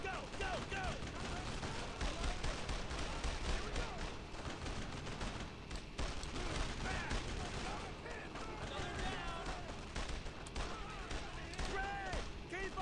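Battlefield combat in Brothers in Arms: Road to Hill 30, with continuous rifle and machine-gun fire and occasional distant booms crackling under shouted soldier voices.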